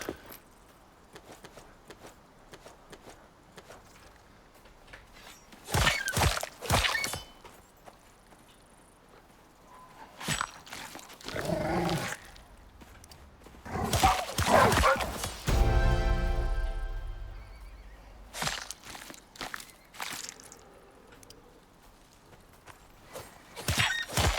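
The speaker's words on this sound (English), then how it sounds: "Sounds like those bear cubs are going to town on that horse." Bear cubs mauling a horse in the survival game Icarus, heard as scattered bursts of thudding hooves, scuffles and animal cries at mid distance, separated by quieter stretches.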